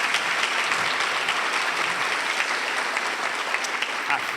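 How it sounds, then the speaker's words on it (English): An audience applauds steadily at a superintendent's award reception: dense, continuous clapping from a large room, evenly loud for the whole stretch with no pauses. "Join me in giving them another round of applause."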